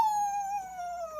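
An audience at a storytelling festival joins in a long, sustained howl imitating a dog, a single steady wavering tone that slowly falls in pitch, heard alone with no talking.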